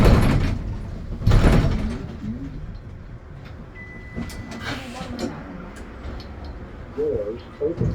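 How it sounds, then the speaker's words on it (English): Subway train sliding doors open at a Church Avenue and East 39th Street stop, two loud bursts of clatter and rumble near the start, followed by quieter station ambience and a few brief chimes and clunks. "Doors open."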